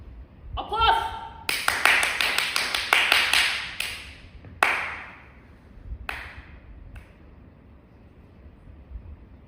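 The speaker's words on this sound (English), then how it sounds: "For me, applause!" A live audience at a 2025 English-language monologue theatre performance claps in a burst of sharp, uneven applause that peaks, then thins out into scattered claps and fades over several seconds.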